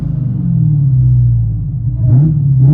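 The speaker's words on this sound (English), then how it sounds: "Carvens and rear muffler delete with 5-inch tips. Let you guys hear on the inside." Supercharged 6.2L HEMI V8 in a Dodge Charger Hellcat widebody with Carven exhaust, rear muffler delete and 5-inch tips, heard from inside the cabin: a loud, deep continuous rumble that dips slightly, then swells as the engine revs up near the end.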